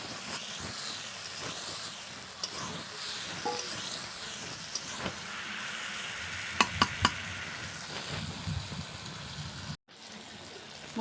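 Chicken pieces go into a pan of hot frying spice paste for a Bengali chicken curry and sizzle steadily while being stirred, with a continuous hiss, occasional scraping clinks near the end and a brief cutoff.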